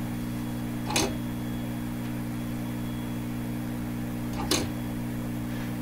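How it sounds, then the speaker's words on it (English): A band switch on a signal generator being changed during a test of a 1925 Lacault Ultradyne receiver: two sharp clicks about three and a half seconds apart over a steady mains hum, no talking. "I'm changing the band on my signal generator."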